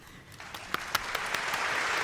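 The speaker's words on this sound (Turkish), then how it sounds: "Inflow Awards en iyi TikTok influencer'ı alkışlarınızla Cemre Solmaz'a gidiyor." At a TikTok influencer award ceremony, the Inflow Awards, a few scattered claps build quickly into fuller audience applause that keeps rising in loudness through the short stretch.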